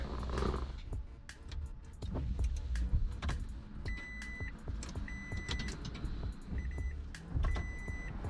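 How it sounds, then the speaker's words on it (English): A Gen 2 Toyota Prius being switched on, with a faint electric hum and soft repeated clicks and chimes rising over a quiet background, all close by and without any talk. "I'm going to connect the battery in back and fire the car up"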